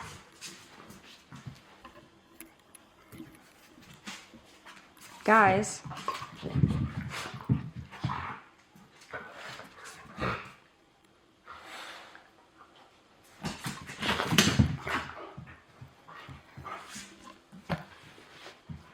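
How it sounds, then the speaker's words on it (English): Dogs fighting indoors, with snarling, snorting scuffles and high whimpers in bursts separated by quiet pauses, close by, and a person briefly speaks. "the dogs are fighting each other next to me because I can never film a video without some sort of dog noise in the background"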